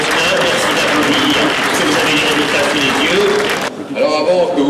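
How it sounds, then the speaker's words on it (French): Audience at a Lions Clubs France convention in Poitiers applauds in a loud, dense burst of clapping that fills the hall, then cuts off abruptly as other sound follows. "merci d'applaudir"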